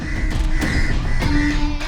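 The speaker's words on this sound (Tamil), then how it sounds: "காக்கா கத்துனா கத்திட்டு போகுது" Crow cawing in the early morning near a house, steady caws throughout under a continuous background bed, fairly loud and close.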